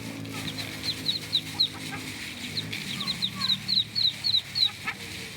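Rooster and hens clucking on a farm where eggs are being hatched, with repeated short clucks and calls scattered across the clip, some close and some farther off, over low background noise.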